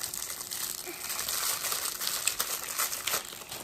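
Plastic packaging of fidget toys crinkles and rustles close up during an unboxing, a dense continuous crackle with small bright snaps, no voice over it.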